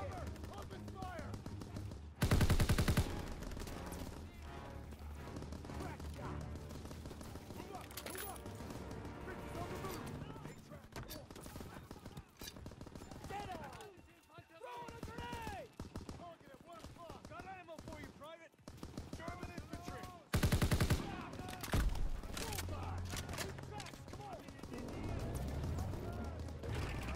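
Gunfire in a WWII shooter game: bursts of shots mixed into a busy battle soundscape with music and effects, two heavy blasts standing out, voices talking throughout.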